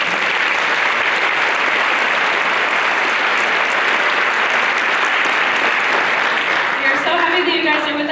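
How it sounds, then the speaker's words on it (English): An audience at a middle school band concert claps loudly and steadily, dense continuous applause filling the hall for several seconds, with a voice beginning to speak as it ends. "Can we give them a round of applause before we start?"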